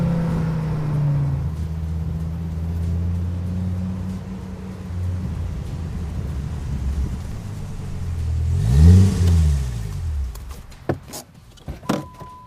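A V10 engine's exhaust note rises and falls through several revs, with a sharp swelling roar around the middle that then fades into quieter clicks and knocks.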